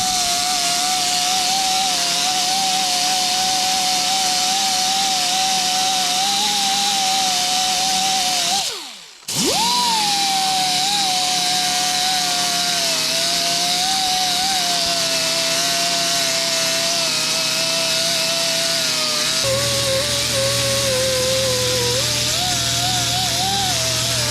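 A power tool fitted with a blue pad polishes a Holley carburetor, a steady high whine that runs continuously, dips briefly, then resumes with slight changes in pitch.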